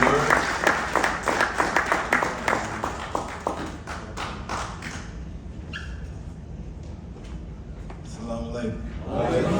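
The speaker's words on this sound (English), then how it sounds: "At this time, Brother Lee, let's give Brother Lee a round of applause" A gathering claps for a guest speaker, starting with a burst of distinct, rhythmic hand claps that thin out and fade within about five seconds, followed by quieter room noise and faint voices.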